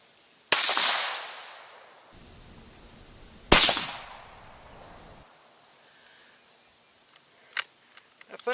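A 17 HMR rifle fired at a 100-yard range: two sharp, loud single shots about three seconds apart, each followed by a short decaying report, then faint clicks and handling noises.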